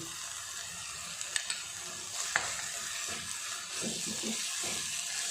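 Ginger garlic paste frying in hot oil for a country chicken curry, a soft steady sizzle with a few sharp utensil clicks and stirring scrapes near the end, quiet and close.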